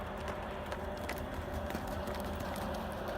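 Horse hooves clip-clopping steadily on the ground during barrel riding practice, close and continuous for the whole stretch, with no voices over it.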